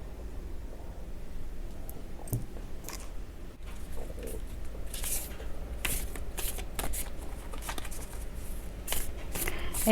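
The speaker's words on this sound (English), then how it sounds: "You don't have to wait while I'm shuffling the card." Tarot cards are shuffled continuously for several seconds, giving a crisp riffling and flicking texture with a few sharper snaps. There is no talking.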